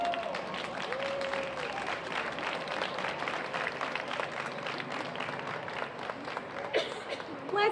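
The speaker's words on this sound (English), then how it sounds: "Let's give Miss Kaya and her court a good round of applause" An audience applauds at a county fair pageant crowning the Little Miss winner and her court, with sustained clapping throughout and an announcer's voice over it.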